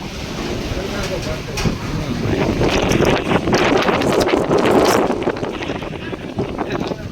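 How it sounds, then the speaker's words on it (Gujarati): Strong wind buffets the microphone in loud, rushing gusts that build toward the middle, with some outdoor rumble beneath, in Atkot, Gujarat. "હવે પવન આવે છે આટકોટ માં"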